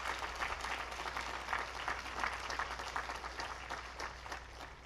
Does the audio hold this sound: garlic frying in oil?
no